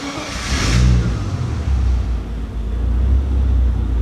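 Turbocharged BMW E30 325i with an M20B25 inline-six engine cranking briefly then catching and settling into a loud, close, steady idle rumble.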